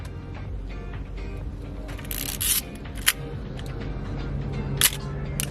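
Mechanical clicks and clacks of a Nikon FE film SLR camera with its back open, with a few sharp shutter snaps and winding rasps over a low background rumble.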